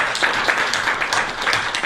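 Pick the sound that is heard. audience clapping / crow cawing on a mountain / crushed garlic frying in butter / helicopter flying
audience clapping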